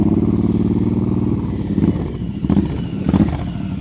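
A motorcycle engine revs up and down through a slow-speed turn during an advanced riding practice session, a loud, close, uneven throttle burble with sharp bursts near the end.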